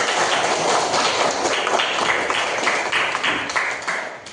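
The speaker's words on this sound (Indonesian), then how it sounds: "Tepuk tangan untuk kita semua." Classroom applause bursts out and holds steady as a dense, even crackle of many hands clapping for about four seconds, fading slightly at the end.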